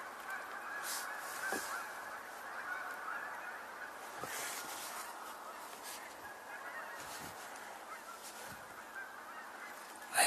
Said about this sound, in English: I might be hearing more geese in the air.